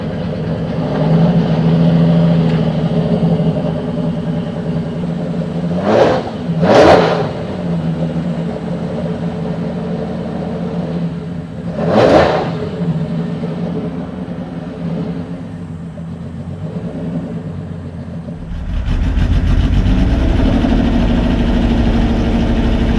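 Jaguar's unique XJ13 historic racing car idles with a deep, loud rumble, then revs up hard three times in quick succession, first two close together and then a single blip, before settling back and swelling again in its assembly area.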